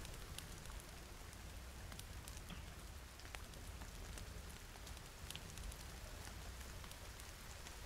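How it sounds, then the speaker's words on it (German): Steady rain falls in the survival video game The Forest, a dense, even hiss of drops spattering on surfaces that holds unbroken and fairly quiet throughout, with no voices over it. "Aber es regnet gerade so viel."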